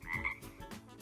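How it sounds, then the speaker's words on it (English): A frog gives a short, close croak, a single throaty call of about a second with a couple of quick pulses, alone with no talk. "Frog."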